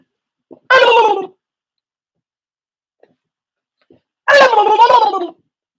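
A person imitates a frightened goose with two short, harsh honking squawks separated by a few seconds of silence, both loud and close.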